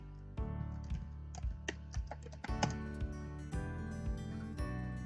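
Book title being typed on a computer keyboard, a quick, irregular run of close, quiet key clicks with short pauses between bursts, no voices.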